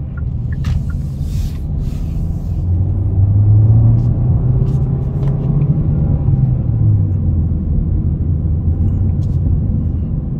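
A 2021 Kia K5 LXS with a turbo engine, heard from inside the cabin while driving: a steady low rumble that swells briefly as it pulls harder, then settles into an even drone.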